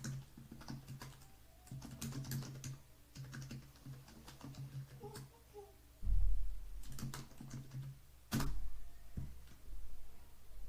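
Close, steady keyboard typing on a computer, clicks in rapid bursts separated by short pauses, with a couple of heavier key thumps along the way.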